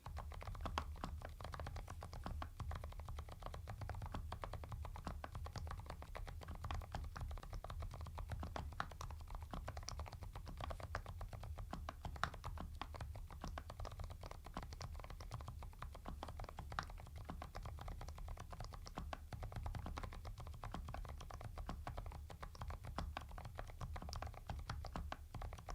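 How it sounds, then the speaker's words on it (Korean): Continuous typing on a keyboard fitted with new Thinkway tactile switches with heavily lubricated tactile bumps, a steady dense run of close clacks and taps for the whole stretch, with no talking. "자, 그럼 이제는 키보드 타건음 소리 한번 들어보도록 하겠습니다."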